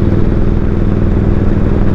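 A 1942 Harley-Davidson WLA motorcycle engine runs loud and close in a steady, lumpy low throb with mechanical clatter, holding an even pace on a mountain ride.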